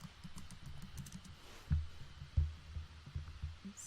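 Soft keyboard typing at a computer, faint and close, a few scattered key taps and clacks in an uneven rhythm over a quiet background, with no one talking.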